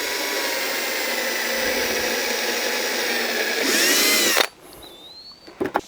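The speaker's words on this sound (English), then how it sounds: "I think I'm going to put a screw in it." A power drill whines steadily and close-up as it drives a screw into a wooden bluebird house. The whine rises in pitch near the end, then cuts off, followed by a few faint clicks and taps.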